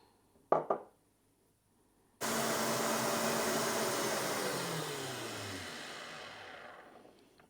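An electric mixer whipping egg whites, a couple of clicks and then a loud steady motor whine that sustains and slowly fades, with no talk over it.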